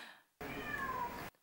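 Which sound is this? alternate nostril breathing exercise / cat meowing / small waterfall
cat meowing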